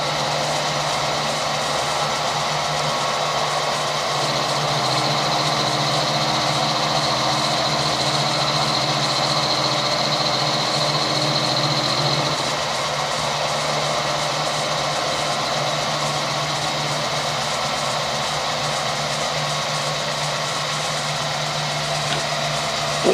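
A milling cutter machines an aluminium camera mount part. A loud, continuous motor and cutting roar runs for the whole stretch, with a high whine in the middle portion that then eases to a steady grind.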